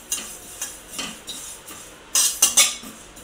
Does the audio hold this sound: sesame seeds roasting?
yes